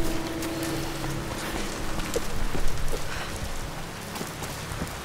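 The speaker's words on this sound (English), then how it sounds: "I just wish this game didn't have so much rain in it." Steady rain falls in the Tomb Raider video game, a dense, continuous hiss of drops hitting surfaces with scattered louder splashes, filling the scene evenly from start to finish with no voices.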